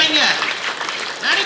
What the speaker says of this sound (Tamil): பரணிக்காக வந்து ஒரு நல்ல கைத்தட்டல்கள்